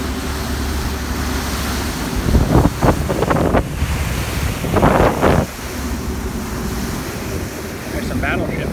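Halifax harbour ferry crossing to Dartmouth pushes through the water, a loud, steady rush of churning waves and wind buffeting the microphone, with heavier surges of spray swelling twice in the middle.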